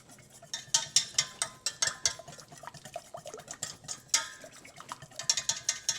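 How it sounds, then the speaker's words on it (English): Whisk stirring a clumpy powdered sugar mixture in a bowl, a quiet rapid series of scraping clinks and taps against the bowl in an uneven rhythm, close by. "I'm gonna grab a whisk to see if I can't break up some of these clumps of sugar."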